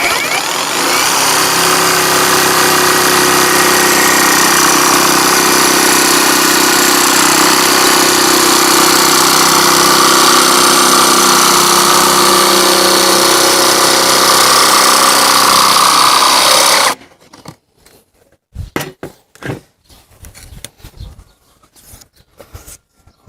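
A Heimerdinger LB291 cordless jigsaw cutting a board: a loud, steady buzzing whine runs continuously for about seventeen seconds, then cuts off, leaving scattered quiet clicks and knocks.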